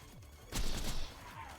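A single loud sniper rifle shot in a looter-shooter video game cracks sharply and rolls into a short booming tail, standing out against low background game ambience.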